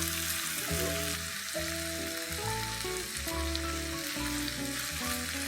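Honey-marinated Korean fire chicken pieces sizzling in a pan while being turned, a constant close hiss and crackle running under a steady background tone.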